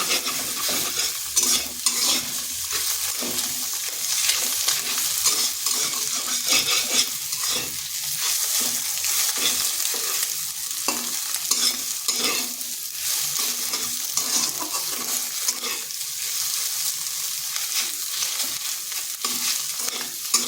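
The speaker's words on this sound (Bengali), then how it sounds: "ডিমটাকে এভাবে ভেজে নিচ্ছি।" Egg fries in a pan for a pumpkin-and-egg dish, with a continuous close sizzle under steady, repeated stirring scrapes for about twenty seconds.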